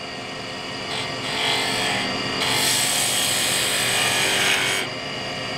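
A wood turning gouge cuts into spinning wood on a lathe, producing a continuous rushing scrape with the motor hum underneath, swelling louder through the middle of the cut.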